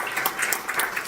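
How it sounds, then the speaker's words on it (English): A crowd at an outdoor ribbon-cutting ceremony for a housing development gives a round of applause, a dense, steady patter of many hands at moderate volume. "could you please give another round of applause for our Department of"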